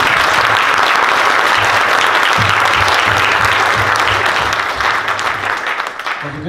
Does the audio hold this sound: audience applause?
yes